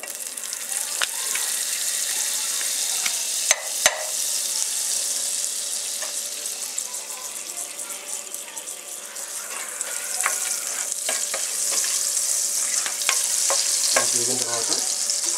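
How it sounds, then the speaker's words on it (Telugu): Butter melts and sizzles in a pan, a soft steady hiss with occasional clicks and taps of a utensil across a long stretch, growing a little denser toward the end, where a brief voice sounds. "కొంచెం బటర్ కూడా ఇందాక బటర్ చెప్పాను కదండి,"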